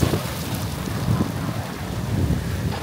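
Heavy rainy-season rain falls outside a cafe in Vietnam, a steady, dense wash of noise with some wind rumble underneath and no voices.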